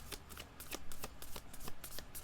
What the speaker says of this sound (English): I'm just going to cut the deck.